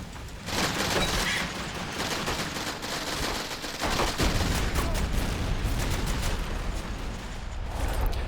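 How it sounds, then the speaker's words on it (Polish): Sustained machine gun fire with overlapping bursts and rattling shots in the World War II shooter Medal of Honor: European Assault, loud and dense throughout with no pause in the gunfire. "Dalej ktoś prowadzi tutaj ogień z karabinu maszynowego."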